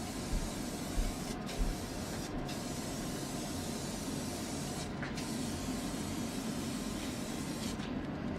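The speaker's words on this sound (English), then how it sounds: "I'm gonna go ahead and spray this bullseye shellac on here" Bullseye shellac hisses from a spray can onto a table in one steady, close spray with a few faint breaks.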